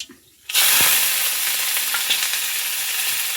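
Onion, dried red chilli and curry leaves sizzle loudly in hot oil after a brief quiet start, a steady close frying hiss with an occasional stir.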